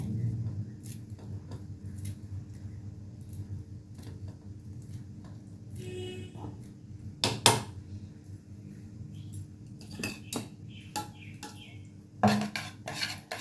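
Curry leaves being mixed into a curry in a pan, with spoon or spatula scraping and clinking against metal in irregular bursts over a low cooking hiss, a few sharper knocks standing out.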